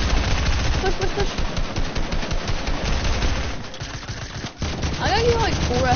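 Rapid bursts of SMG gunfire in a Fortnite 2v2 boxfight rattle loudly for several seconds, briefly drop out, then resume, while players talk excitedly over the shooting.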